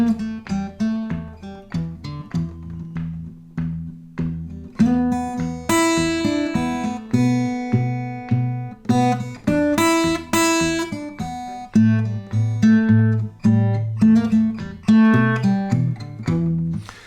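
Guitar playing the blues melody of Nobody's Fault But Mine in E, with a steady thumbed bass under plucked single-note phrases and occasional chords, clear and close, no voices.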